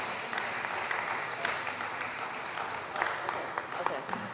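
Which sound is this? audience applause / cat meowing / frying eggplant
audience applause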